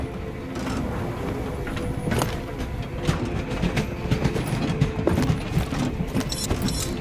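Train rolling along rails in the video game Voidtrain, a continuous mechanical rumble with rhythmic clacking and metallic clicks that grow busier over time.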